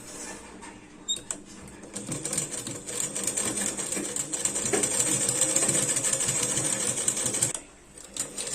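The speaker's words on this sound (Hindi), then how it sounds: "अब ये पट्टी हम ऐसे फोल्ड करके यहाँ पे आधा इंच पर सिलाई लगा लेंगे" A sewing machine stitches a folded fabric strip for winter socks, running in a steady rapid mechanical whir for several seconds after a few brief starts, then stopping, close and fairly quiet.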